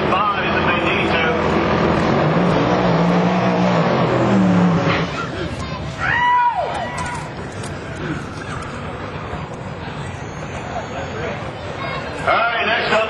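A 1996 Chevrolet Impala race car, the #1 car, rolls up with a steady, loud engine drone that holds throughout and briefly rises in a pitch sweep near the middle, while a voice talks over it.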